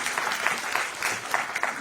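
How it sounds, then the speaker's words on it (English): Audience applause in a university hall, dense steady clapping at moderate volume for a couple of seconds with no voices over it. "A round of applause for Mr. Lambert."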